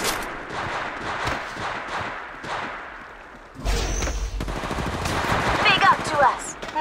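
Rapid automatic gunfire in the mobile battle royale game Apex Legends Mobile, loud bursts of shots erupting midway and continuing steadily to the end, with background game sounds and low voice chatter earlier.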